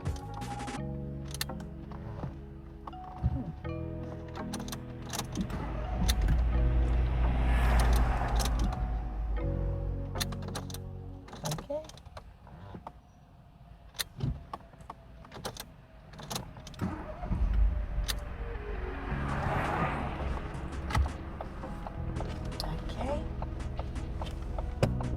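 A car pulling away on a driving test, engine rising under a low rumble with clicks and small cabin knocks, road noise building and easing over several seconds, with a voice speaking at times.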